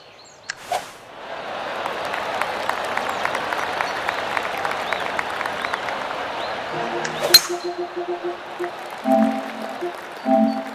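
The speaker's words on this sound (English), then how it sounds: "They still haven't fixed that that applause on the practice swing" Crowd applause in the golf video game PGA Tour 2K21 on a practice swing, a sustained clapping that swells and then cuts off abruptly, followed by soft tonal interface chimes.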